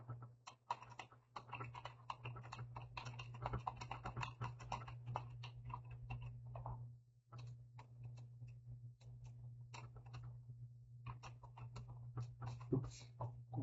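Typing on a computer keyboard, quick irregular clicks and taps close by with a brief pause midway, over a steady low electrical hum.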